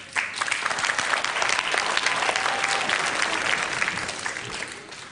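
Studio audience applause on a Georgian TV money game show, a steady, dense burst of clapping filling the whole stretch and tapering slightly at the end, with no talk over it.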